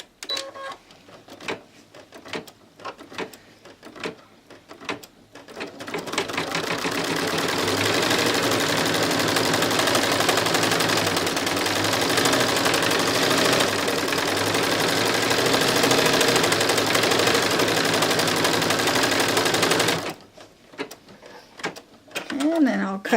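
An embroidery machine stitches an applique cover in a long, steady, loud mechanical whir with rapid needle chatter lasting about fourteen seconds. Sparser clicks and handling noises come before and after.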